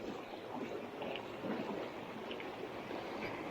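A creek flows in a steady, close wash of water in a snowy state park, an even broadband rush with no voices over it.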